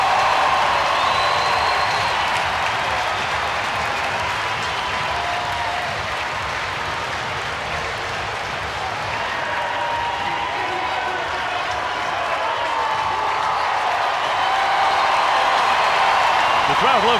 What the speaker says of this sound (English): Robert Dowd brings the crowd to its feet again.